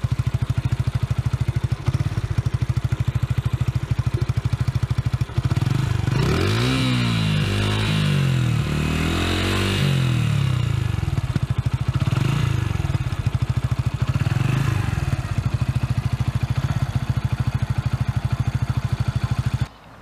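A small 125cc Orcal Astor motorcycle engine idles steadily with a buzzy, even putter, revving up briefly a couple of times before settling back to idle.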